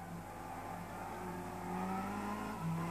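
A Lexus SC430 GT500 race car in Gran Turismo 6 drones with a steady, moderately quiet engine tone that climbs gradually in pitch as it accelerates, heard alone without voices.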